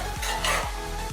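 Stirring inside a new cooking pot, with three low scraping sweeps spaced evenly against a steady sizzling, frying hiss, close and fairly loud.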